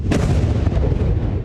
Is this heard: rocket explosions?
yes